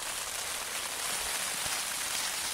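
Rain falling on an MLD Trailstar shelter pitched on Dartmoor, a steady, dense patter that holds at an even level throughout with no pauses.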